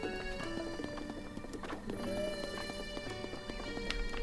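A horse in The Legend of Zelda: Breath of the Wild at a stable, with repeated hoof clip-clops and a whinny among game sounds, faint speech in the mix.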